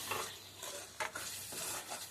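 Mango pieces and small fish curry being stirred in a pan, a soft continuous scraping and bubbling sizzle with a few louder spoon strokes, close and steady with no talking.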